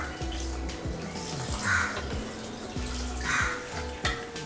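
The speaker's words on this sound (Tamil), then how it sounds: "அதுக்கப்புறம் இந்த தண்ணியை ஊற்றணும்." Water poured over rice for chicken biryani, a steady pour heard up close with no talk.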